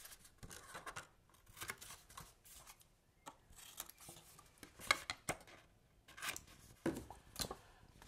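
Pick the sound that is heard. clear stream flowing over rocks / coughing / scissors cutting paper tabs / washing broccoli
scissors cutting paper tabs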